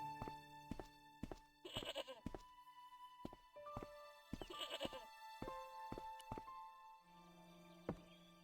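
A tethered goat in Broken Sword, its rope caught on an old plough, bleats twice in loud quavering cries amid sharp wooden thunks and knocks, with game tones and a voice speaking at times.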